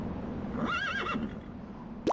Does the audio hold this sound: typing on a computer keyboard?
no